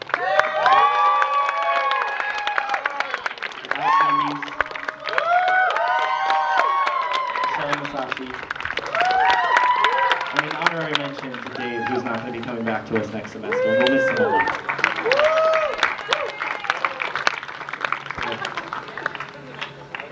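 Crowd at a 2013 SUNY Geneseo final concert applauds and cheers graduating seniors, a loud, steady wash of clapping and shouts lasting throughout with voices calling out above it.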